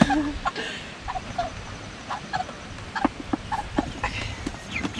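Chickens cluck and chirp in short, scattered bursts around a poultry processing setup on a farm, fairly close, with a steady low background noise and no talking.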